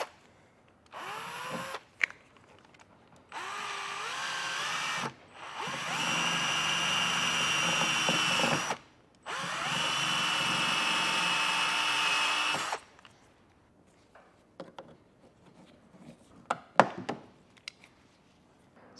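A power drill boring out a fastener on a 2023 BMW X4 while fitting a hidden hitch receiver, with several loud, sustained whining bursts separated by pauses, then a few scattered clicks and knocks.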